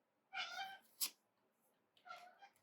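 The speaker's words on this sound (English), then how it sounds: "listen to my cat too" A cat meows twice, a drawn-out call followed after a pause by a second, shorter meow, close and clear, with a brief sharp noise between them and no talking.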